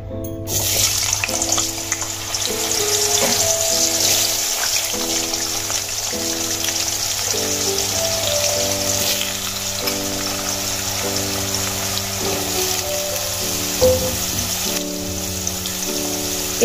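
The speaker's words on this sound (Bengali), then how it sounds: "সেই আলুগুলো আমি ভেজে নেব।" Long potato strips frying in hot oil, a loud, continuous close sizzle and bubbling throughout with soft music in the background.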